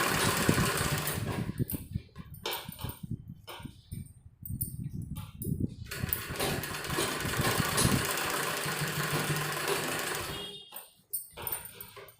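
A sewing machine stitches a sleeve in a near, steady mechanical whir. It runs in several bursts with short pauses between them, and the stop near the end is sharper.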